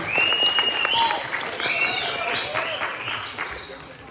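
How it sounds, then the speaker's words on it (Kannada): An audience at a World Theatre Day seminar applauds after a play performance, with dense clapping that starts loud and slowly fades while a voice talks over it. "ಎಲ್ಲರೂ ಚಪ್ಪಾಳೆಯಿಂದ ಅವರಿಗೆ ಗೌರವಿಸೋಣ."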